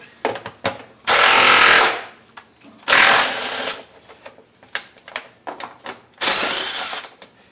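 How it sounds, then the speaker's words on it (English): A power tool runs in three loud bursts of a few seconds each while removing engine cover bolts with a 10mm socket on a 2010 Nissan Sentra, with sharp clicks and knocks in between. "I'm using a 10mm socket."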